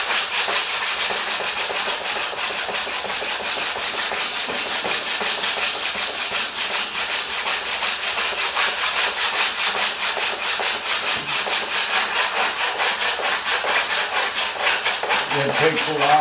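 Sanding bar rubbing steadily back and forth over wooden planking on a model tank hull, a loud, continuous close scraping with an even stroke rhythm throughout.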